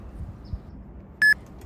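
A single short electronic beep from a workout interval timer sounds clearly over quiet background, marking the start of a dumbbell Tabata interval.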